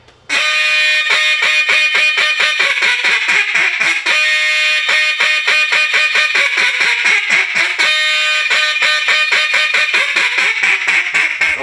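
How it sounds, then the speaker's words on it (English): A competition duck call blown in a triple comeback hail, loud, close, rapid repeated quacking notes pouring out continuously in long breath-length runs with only short pauses. "This is 3 small hail calls that's done in one breath."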